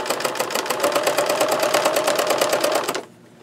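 A sewing machine stitches a canvas journal cover in a rapid, even run of close mechanical clicks for about three seconds, then stops, leaving a faint room hush.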